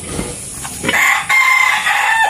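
A farm rooster crows loudly and close by, a rising call followed by a long sustained cry, with faint clucks and rustling at the start.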